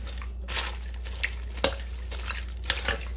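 A spoon stirs broths together in a pot, with a few scattered metallic scrapes and clinks over a constant low hum, close and otherwise quiet.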